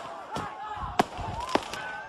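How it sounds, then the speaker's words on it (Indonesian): Firecrackers and fireworks set off by villagers to drive a herd of elephants out of a plantation near Way Kambas National Park give two sharp, brief bangs amid people talking and shouting. "cara mereka mengusir menggunakan kembang api dan petasan membuat gajah-gajah itu malah panik"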